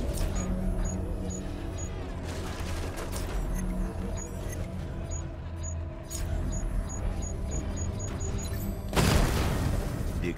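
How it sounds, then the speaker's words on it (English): Explosions and heavy gunfire in a Batman video game blow out a main cannon, a dense, continuous barrage over game music that ends in a louder, sharper blast near the end. "Explosion disabled the main cannon."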